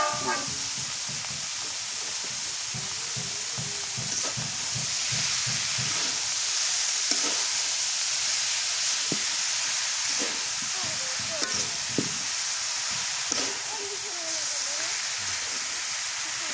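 Bottle gourd sizzles and fries in a pan of cooked-down spiced masala, a steady loud hiss with occasional stirring scrapes throughout.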